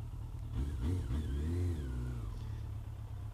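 A small motorcycle passes nearby, its mid-pitched engine revving up and rising then falling away over a few seconds, fairly loud against steady background noise.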